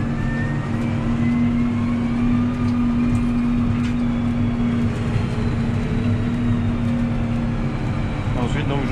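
A McCormick X8 tractor hums steadily while stubble cultivating, a constant droning engine tone with low rumble inside the cab throughout.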